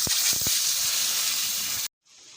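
Loud, steady sizzling hiss of fish frying in hot oil, with a few low thumps early on, cutting off abruptly before a fainter hiss resumes.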